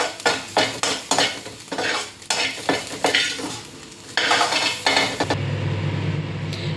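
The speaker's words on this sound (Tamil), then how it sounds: "அன்னையும் நல்லா செவக்க வறுத்து எடுத்துங்க." Dal and other ingredients for Andhra-style paruppu podi are dry-roasted and stirred in a pan, giving a steady sizzle with repeated scraping and clinking of a utensil against the metal, near and continuous.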